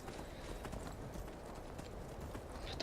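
Horse hooves clip-clop steadily in the cold, snowy Skyrim video game setting, a continuous close rhythm of hoof strikes with no talk over it.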